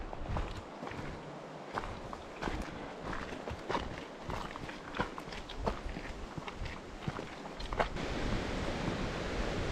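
A loud mountain river in autumn near Breckenridge, a broad rushing wash like wind underneath, overlaid by crunching footsteps on the trail that dominate the foreground.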